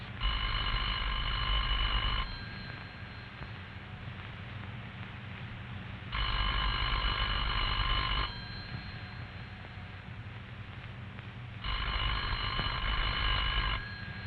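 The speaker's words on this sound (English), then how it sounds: "The ring will continue until the telephone is answered" A telephone rings in three evenly spaced bursts, each about two seconds long, with pauses between them, clear and close.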